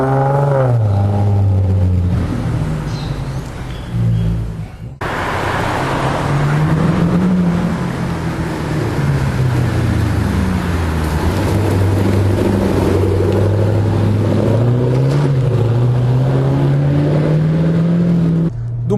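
V8 muscle cars, a Mustang and a Camaro, drive past with a loud deep engine drone that rises and falls with revving, continuous and close, no talking.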